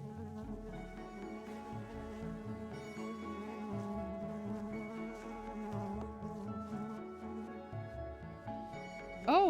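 Honeybees buzzing around an opened, thriving spring hive during an inspection, a steady close drone that holds throughout and ends in a sharp rise of pitch near the end.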